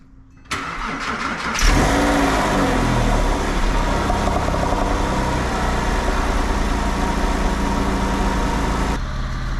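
An American car with a manual clutch cold-starts: a brief starter crank, then the engine catches and settles into a loud, steady, close idle with no talk.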